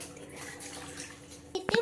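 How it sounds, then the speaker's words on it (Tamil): Water pours steadily into a pan of cooking chicken masala with a soft, continuous trickle, ending in a short clink and splash. "தண்ணி கொஞ்சம் ஊற்றிக்கணும்."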